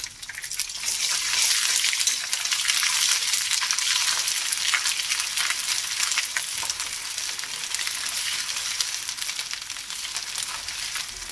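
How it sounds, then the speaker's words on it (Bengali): Ginger paste fries in hot oil, a dense, loud sizzle that hisses steadily for several seconds up close, with scattered pops and no voices. "আদা বাটা ভাজা হয়ে গেছে"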